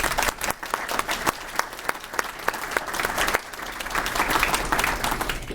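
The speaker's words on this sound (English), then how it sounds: "please give all of these wonderful folks a round of applause" An audience at an annual meeting applauds, individual claps distinct and close at first, then blending into fuller, louder clapping toward the end.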